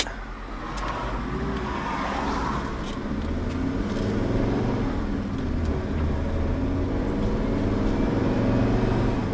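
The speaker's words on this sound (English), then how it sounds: "Just wait for all these volumes of traffic." Road traffic heading for a wedding fair, heard from inside a vehicle as a continuous rumble of cars and larger vehicles passing, steady and moderately loud throughout, without speech.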